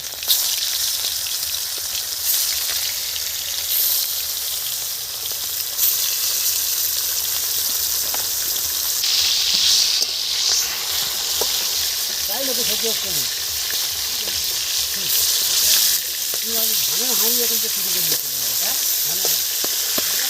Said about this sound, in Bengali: কড়া গরম হয়ে গেছে, তেল দিয়ে দিচ্ছি।